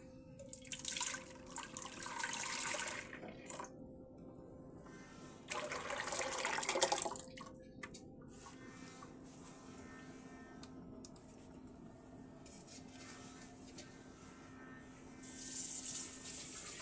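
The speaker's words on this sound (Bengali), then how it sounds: "এবার আর একটু পানি দেবো আমি" Water runs and splashes into a cooking pot on the stove while lentil and bottle gourd dal is being made, in a few moderate bursts separated by quieter stretches in a kitchen.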